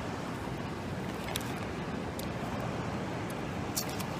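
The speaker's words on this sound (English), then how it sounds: "Just listen to the ocean." Ocean waves washing on a beach, a steady, fairly faint broadband surf hiss with light wind, heard alone without voices.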